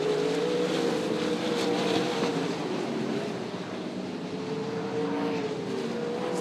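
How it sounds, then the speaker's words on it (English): Speedway race cars lapping a dirt oval at Sydney Speedway, with a sustained roar of several engines that rises and falls as the cars circle, heard from trackside at a steady, loud level. "Then the next car on the track is Gary Hart"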